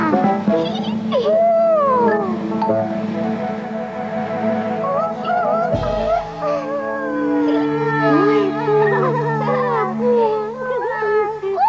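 Cartoon dog howling in a children's educational cartoon, drawn-out wavering howls rising and falling over a busy musical soundtrack, steady and fairly loud throughout.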